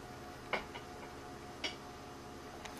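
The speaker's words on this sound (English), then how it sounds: "So now I can hear it booting from the CD." A Power Macintosh 6500 boots from its CD drive, giving a few faint, sharp clicks spaced about a second apart over a steady low hum.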